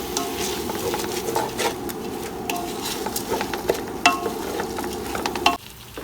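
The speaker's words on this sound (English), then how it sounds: "stir it nicely in this mixture" A spoon stirs rice into a sizzling Goan pork sausage pulao mixture in a pan, with repeated scraping clinks against the metal over a steady frying hiss before it stops abruptly.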